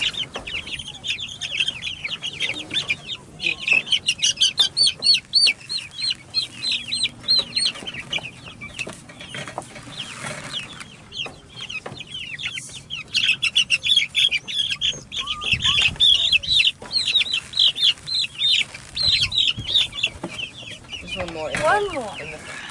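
A guinea fowl calls loudly with repeated harsh, rhythmic squawking cries, close by among other farm poultry, with people talking intermittently over it.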